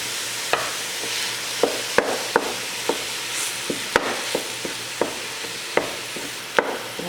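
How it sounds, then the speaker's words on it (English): Sharp wooden utensil taps and scrapes repeat irregularly against a pan, about two per second, breaking up ground beef over a soft steady sizzle of frying meat for a meat sauce. "This handy dandy little wooden utensil is great for chopping up the ground beef."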